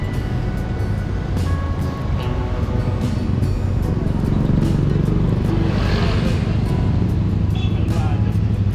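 A CFMOTO 450MT adventure motorcycle engine runs steadily with a low, rumbling drone throughout, loud and close, with some wind noise over it.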